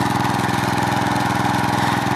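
An old 1988 Gravely 12G walk-behind mower runs steadily at close range, its small engine chugging in an even, rapid pulse with no break across the whole stretch and no voices over it.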